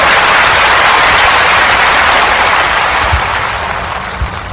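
A large indoor audience claps in a loud, dense, continuous wash that slowly tapers toward the end, with no voices over it.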